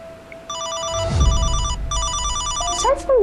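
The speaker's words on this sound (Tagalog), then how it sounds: "Cellphone ba yun ni Mahal?" A cellphone rings in a room, an electronic chime playing in two repeated bursts of bright, pulsing tones, with some rustling and a short beep near the end.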